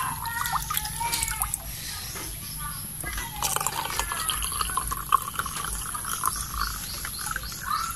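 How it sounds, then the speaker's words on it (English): Water pours and trickles from a tank into a container for culturing infusoria, with splashing and gurgling that shifts in pitch as it fills. "I will put the water from the tank."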